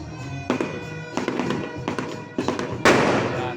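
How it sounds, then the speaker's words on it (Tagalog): Loud New Year fireworks and firecrackers going off outside near a gate: a rapid series of sharp bangs and crackles, some overlapping, close by and forceful with no pause. "marinig nyo po yung mga malalakas na"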